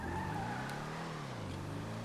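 A Classique Broadway car in GTA 5 Online hums steadily as it swings around, its tires giving a long smooth squeal and skid with the engine note dipping at the end.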